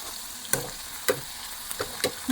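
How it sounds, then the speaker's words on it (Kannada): Garlic, ginger, cumin and tamarind frying in oil in a pan for garlic chutney, giving a low steady sizzle broken by four sharp stirring scrapes spaced roughly half a second apart, close and moderately loud. "ಫ್ರೈ ಮಾಡ್ಕೊಳ್ಳಿ"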